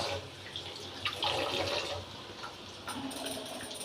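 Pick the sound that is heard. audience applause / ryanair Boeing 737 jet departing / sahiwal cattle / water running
water running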